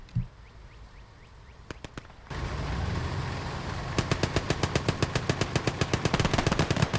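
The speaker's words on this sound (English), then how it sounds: "It does have a machine gun as a backup" A tank's machine gun fires in the World War II strategy game Gates of Hell. A few scattered shots come first, then an engine rumble rises and a long, rapid, steady burst of automatic fire carries on to the end, with no talking.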